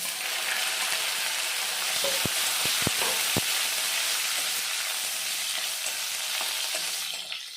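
Slit green and red chillies hit oil with fried crushed garlic, producing a loud, continuous close sizzle with a few brief clicks of utensils near the start, no voices.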